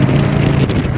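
An Indian Scout 101 motorcycle engine drones steadily while the bike is ridden. The sound is loud and continuous, with a low rumble mixed with wind rush and no speech.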